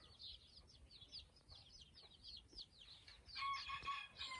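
Chickens and a rooster clucking and calling together in a farmyard, a steady run of faint, repeated clucks with a louder, sustained call near the end; no talking.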